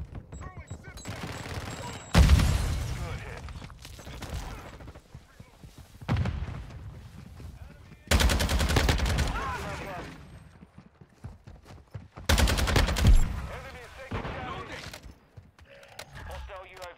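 Heavy air strike explosions and rattling gunfire in Call of Duty MW2, loud booming blasts arriving every few seconds amid bursts of shots, with voices talking over the action.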